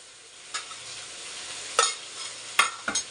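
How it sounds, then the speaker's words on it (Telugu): Tomato puree with Kashmiri red chilli powder is stirred into a sizzling dhaba-style chicken curry. A low hiss runs beneath a few sharp scraping strokes of the spoon against the pan. "ఇదంతా ఈ టమోటో ప్యూరీ మొత్తం ఇదంతా బాగా మిక్స్ అయ్యేలాగా కలుపుకొనేసి"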